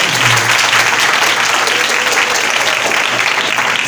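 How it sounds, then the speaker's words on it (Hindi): A church congregation breaks into loud, sustained applause, a dense even patter of many hands clapping at once that continues without pause. "खुदा की जनाब के लिए जोरदार ताली बजाएंगे आपके साथ।"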